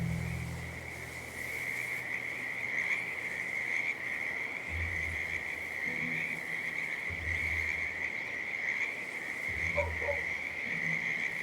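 In Hitman 2's Whittleton Creek, Vermont level, a frog croaks in low, repeated pulses against a steady loud chorus of crickets and insects, ongoing throughout.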